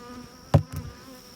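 Honey bees buzz around a hive during colony work, two short buzzing bursts passing close by over a faint background hum.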